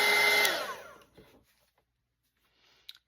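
A hair dryer drying a watercolour painting of Christmas holly blows loudly at first, then winds down and cuts off, leaving near silence and a small click at the end.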